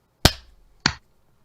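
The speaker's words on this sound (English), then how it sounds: "you ready for a distinct clap?" Two sharp, distinct hand claps about half a second apart, close and crisp in a quiet room, made to sync a recording.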